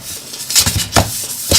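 Palette knife scraping pigment off a palette: a few short, close scrapes and clinks, loud and uneven, in quick bursts over a quiet room.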